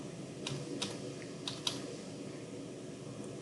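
Typing on a computer keyboard while working in AutoCAD, a few scattered soft key clicks at a quiet, unhurried pace over a low steady background hum, no voices.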